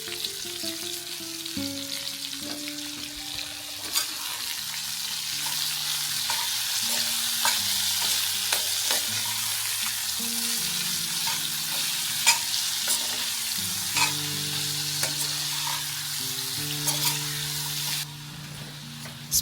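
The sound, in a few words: stirring raw mango pieces in oil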